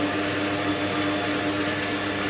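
A radiator flushing machine pumps water through heating radiators, giving a loud, steady close-up whir and rushing hum with no change across the short stretch.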